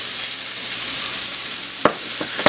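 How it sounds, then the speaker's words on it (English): Eight ounces of home-sliced mushrooms sizzling in a pan with salt, a steady close frying hiss broken by a couple of sharp clatters near the end. "And we'll cook up the mushrooms."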